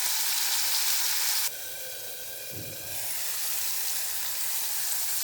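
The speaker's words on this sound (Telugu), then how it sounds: "ఇవి కూడా కొంచెము వేగాలండి" Vegetables fry in a pan with a loud, continuous hissing sizzle that dips abruptly after a second or so, then carries on steady and close.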